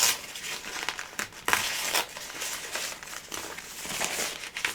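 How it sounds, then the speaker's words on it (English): Tearaway embroidery stabilizer being torn from a flocked sweatshirt, giving close, crisp papery crinkling and ripping with several sharper tearing bursts over a few seconds, and no talking. "I'm going to take and just tear away the tearaway, just like it's called"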